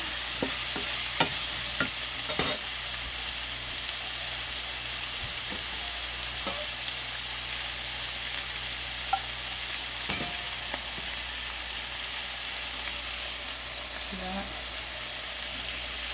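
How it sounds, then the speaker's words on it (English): Okra flash frying in hot oil with no batter or seasoning, a steady soft sizzle throughout with a few sharp clicks and taps of a utensil against the pan. "Just gonna flash fry that okra."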